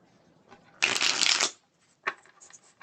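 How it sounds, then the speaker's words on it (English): A crisp riffle shuffle of a tarot card deck, a dense burst of flapping for about a second, followed by a brief softer card snap. "Love the sound of a nice crispy shuffle here."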